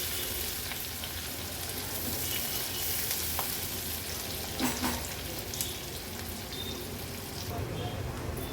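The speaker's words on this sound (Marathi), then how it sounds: "गॅसची फ्लेम मीडियमवर ठेवून कांदा व्यवस्थित आपल्याला शिजवून घ्यायचा आहे" Onion frying in a pan over a medium flame makes a steady crackling sizzle with stirring and occasional utensil knocks, continuous and close throughout.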